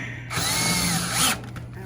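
A power drill drives a screw during a household clothes dryer repair, one short whirring burst of about a second between quiet pauses, close by.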